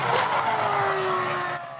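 A Formula One racing engine screams at very high revs, a dense loud roar with a steady high tone sliding slightly downward over under two seconds.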